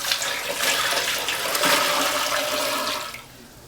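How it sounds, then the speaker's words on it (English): Water poured into a large pot of turkey to make broth for canning: a steady, loud rushing pour for about three seconds that then tapers off, with no talk. "I already put 8 cups of water, 2 quarts. I'm going to add 2 more quarts."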